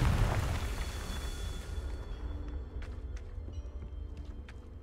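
The Confringo fire spell in Hogwarts Legacy bursts with a loud, booming explosion that fades over about two seconds, followed by scattered small crackles and clicks.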